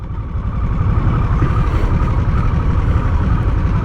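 A Harley-Davidson Nightster Special motorcycle engine, started at the push of a button, settles into a loud, close, steady low rumbling idle with a fast even pulse.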